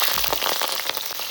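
Bay leaf, whole cumin and slit green chili tempering in hot oil in a village kitchen, a dense steady crackling sizzle with sharp popping spits, close and loud, no voices.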